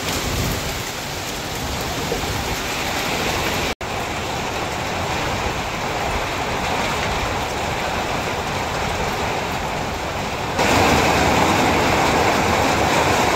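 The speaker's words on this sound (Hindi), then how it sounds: "बहुत जबरदस्त हवा, बहुत जबरदस्त," Strong wind and heavy rain during a storm near Jim Corbett forest, a loud continuous roar of rain and gusting air heard from indoors, briefly cutting out and then surging louder near the end.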